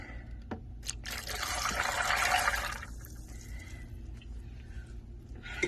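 Water pours into a food processor holding raw cashews for a couple of seconds, a splashy rushing stream close up, then stops, leaving faint handling noises.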